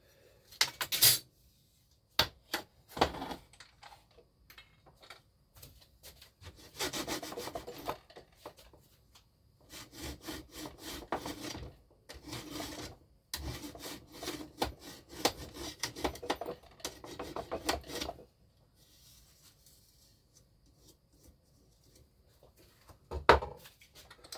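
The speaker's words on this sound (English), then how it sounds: "I've got a 24 tooth per inch DPI blading and bandsaw, and I use that for cutting everything." A bandsaw with a 24 teeth-per-inch blade cuts parts for a scale model truck chassis frame in repeated rasping bursts, each lasting a few seconds, with quiet gaps between passes.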